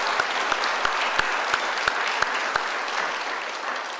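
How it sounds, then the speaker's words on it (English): An audience at a civil rights anniversary event applauds steadily. Dense clapping sounds from a crowd, with several louder claps standing out at a regular beat before the sound tapers slightly. "Please, let's give a round of applause to Bill Maxwell."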